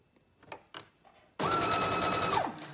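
A sewing machine stitches gathering lines on a McCall's 7319 garment: a few faint clicks and handling sounds, then the motor starts abruptly into a loud, steady rapid whir that runs to the end.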